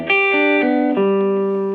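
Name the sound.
electric guitar played on bridge pickup, bright tone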